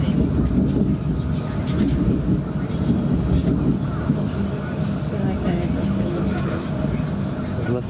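Onboard a TransPennine Express train passing Holgate Junction, a steady loud low rumble of the carriage running along the track, continuous and even throughout.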